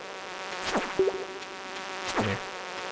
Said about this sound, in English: Oh, here's a bee.